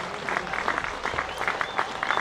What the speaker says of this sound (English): Warm applause for Dom Bess from the Yorkshire faithful